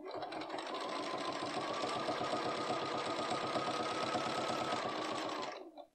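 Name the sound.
Bernina B570 sewing machine stitching thick soft shell fabric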